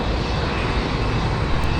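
A cargo plane's jet engine roars with a steady, dense, loud rush that stays constant and close throughout, with no voices heard.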